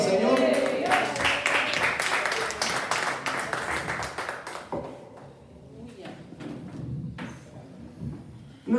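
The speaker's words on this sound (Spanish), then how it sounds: "Un aplauso al Señor." A church congregation gives a burst of applause during a service, loud, dense clapping that thins out over several seconds into scattered claps and voices, then a few final sharp claps.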